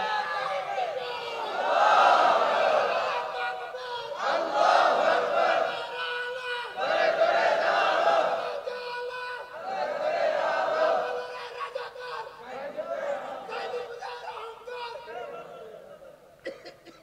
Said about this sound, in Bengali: দেন স্লোগান দেখি, দেন স্লোগান, মারেন আবার দেখি স্লোগান দেন।